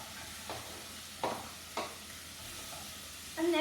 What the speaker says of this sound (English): After that, you'll want to mix it up. Give it a good mix.